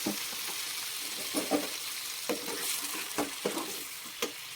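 Potatoes fry in a small amount of oil, giving a steady broadband sizzle with soft scrapes and clinks from stirring at uneven intervals throughout.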